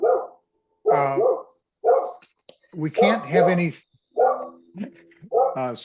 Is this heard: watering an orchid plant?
no